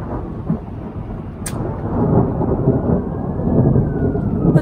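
Rumbling thunder from a storm heard from indoors, a steady low roll building slowly over several seconds with a faint high tone drifting above it.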